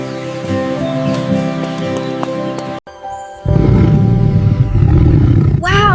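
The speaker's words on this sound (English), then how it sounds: "The lion is so strong!" A lion at the zoo lets out a loud, deep, sustained roar that rumbles on for several seconds, close and powerful, with a brief dip in the middle before the roaring swells again.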